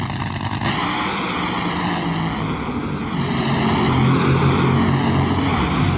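Top Fuel dragsters in a two-car final at Pomona during the 1995 NHRA Winston Select Finals, a loud, continuous roar of nitro engines that swells slightly toward the end, with no voices.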